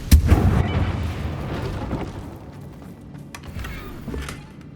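The Confringo blasting spell striking a damaged bridge in the Hogwarts Legacy game, a loud booming explosion up front followed by rumbling debris and scattered crackling pops that trail off.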